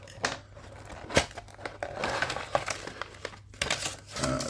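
A Hachette Build the Titanic issue 68 partwork package being opened, with crinkling and tearing of cardboard and plastic wrapping, several sharp rustles and snaps at close range.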